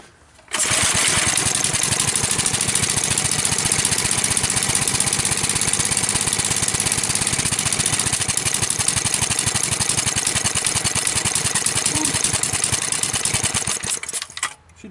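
A Briggs & Stratton 3 hp small engine, run without its spark plug wire, chugs loud and steady with a rapid, even firing rhythm for about fourteen seconds before cutting off.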